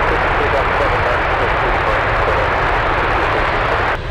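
Large jet aircraft taking off from runway 7 left at Anchorage airport, a loud, steady broadband engine roar held throughout, dropping off abruptly at the very end, with a radio voice talking over it.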